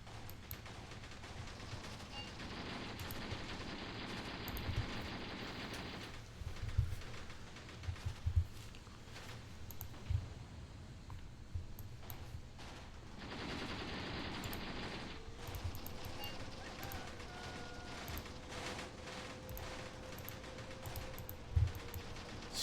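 Distant machine-gun fire and scattered single shots in the war strategy game Graviteam Tactics during the Battle of Cuito Cuanavale, sharp bursts spaced over a low battlefield rumble, with no voices.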